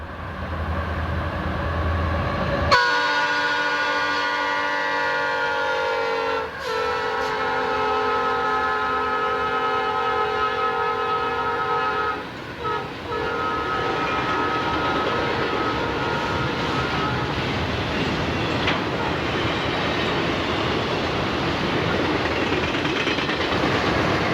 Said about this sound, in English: A trio of high-hood GP50s were in charge of the high-priority train.